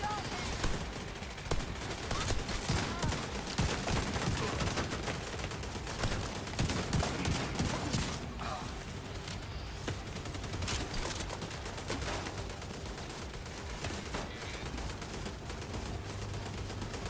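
Dense, continuous gunfire from turrets in The Division 2, a loud sustained fusillade filling the whole stretch with overlapping shots.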